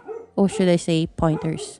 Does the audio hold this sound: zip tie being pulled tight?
no